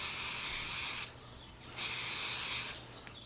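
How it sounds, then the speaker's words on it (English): General spray adhesive hisses from a can onto cardboard in two close, sharp bursts of about a second each, separated by a short pause. "this is just general spray adhesive"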